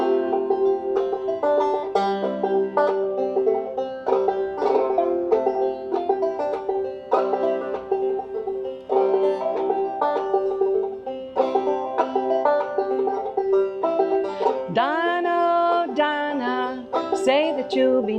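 A banjo played two-finger mountain style runs through a steady, busy stream of plucked notes for a long stretch, with a brief sliding bend near the end, close and alone without talk.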